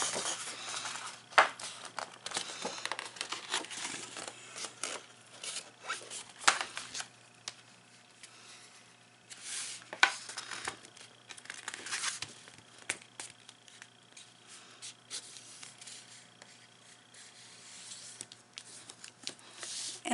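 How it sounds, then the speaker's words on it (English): Paper being folded and burnished along score lines for a mini recipe folder, a run of close, soft rustling, rubbing and crinkling strokes, some sharper scrapes scattered through. "fold and burnish these score lines"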